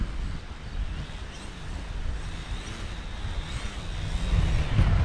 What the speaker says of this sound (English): wind's picking up and moving again